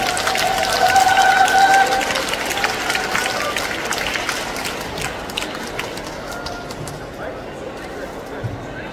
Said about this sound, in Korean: 모두 큰 박수로 환영해 주시기 바라겠습니다